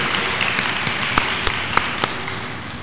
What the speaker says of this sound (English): let's give your family a round of applause to thank all of them for everything that they did for you